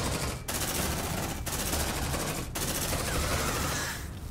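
Sustained automatic fire from a sentry gun in the video game Aliens: Dark Descent, a dense, loud continuous burst broken by brief gaps at roughly one-second intervals, with no talk over it.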